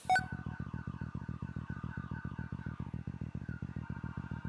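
A car alarm sounds in a video game, a fast steady pulsing tone repeating without pause, fairly quiet and alone.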